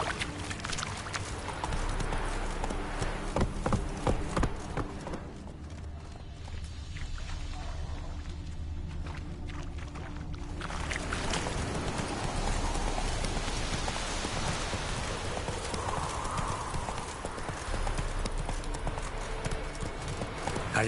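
Roach the horse gallops through The Witcher 3, a steady rapid clip-clop of hoofbeats with rain pattering around, easing off briefly midway before picking up again.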